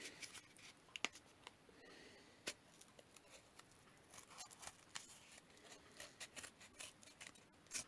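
Scissors snip out the middle of a pom pom bauble template in short, crisp, quiet cuts, repeated irregularly close to the listener with no talk.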